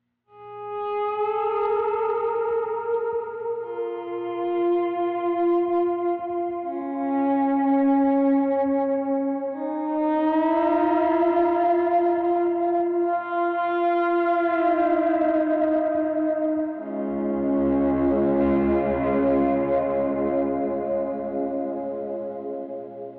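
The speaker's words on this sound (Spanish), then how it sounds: "también estoy usando un poquito de overdrive y un compresor con el, y también estoy utilizando el pedal de volumen para hacer los swells." Electric guitar through overdrive, a compressor and a volume pedal, playing slow swelling notes and chords that fade in smoothly and ring with a soft echo tail, steady and alone, with no voices.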